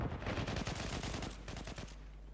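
Rapid bursts of gunfire from a weapon in the online shooter Zula during a 5v5 deathmatch, a dense stream of loud shots lasting about two seconds before thinning out.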